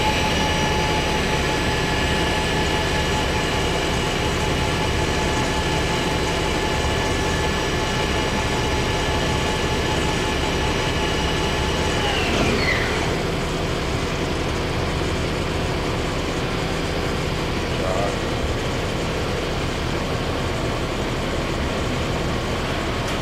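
Kitamura HX1000i horizontal machining center with its spindle spun up to high RPM, a steady loud mechanical hum and whine holding throughout, with a brief sweeping tone partway through and no talking.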